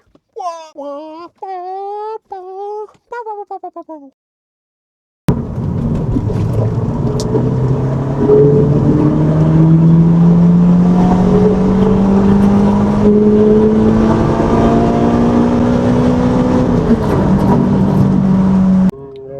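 A Toyota Celica fitted with a new clutch, grooved M-Tech front discs and black diamond pads drives along. Its engine drones steadily and close, rising slowly in pitch as it accelerates, after a brief stretch of what sounds like someone talking.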